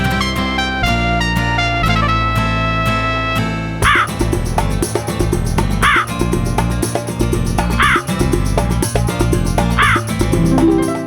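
A crow caws in a few loud, harsh calls spaced about two seconds apart over a bright musical background.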